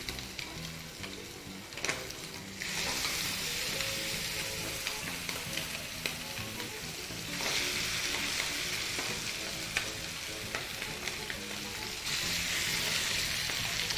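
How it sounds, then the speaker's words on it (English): Chicken sizzles steadily in a hot pan, a bright crackling hiss that swells in intensity in three waves, with faint clinks of stirring underneath and no talking. "get your chicken, and you're going to hear a sizzle"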